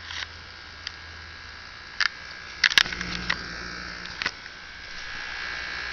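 Several small Snap Circuits toy motor fans spin together, giving a steady high electric whine and buzz with a few brief clicks and ticks near the middle, no talking.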